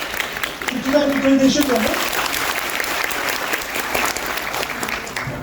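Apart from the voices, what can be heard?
audience applauding at a talk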